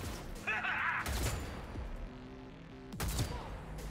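Sniper rifle shots in the video game Cyberpunk 2077, two loud broadband cracks about two seconds apart, the first longer with a rumbling tail, heard under busy game ambience and occasional voice.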